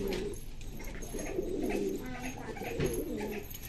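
Kalanka pigeons, an Andhra breed, coo softly and repeatedly inside a loft, low murmuring calls layered over a steady background of other birds.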